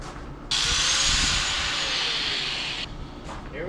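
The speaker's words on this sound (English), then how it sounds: "Drill our holes." A power drill bores holes in an old generator frame, a loud steady high whine starting sharply and running for over two seconds before stopping, followed by a brief second burst.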